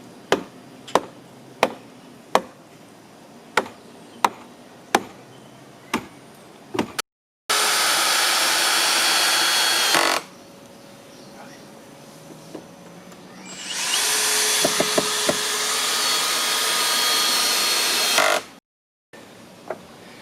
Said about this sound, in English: It's a big hammer.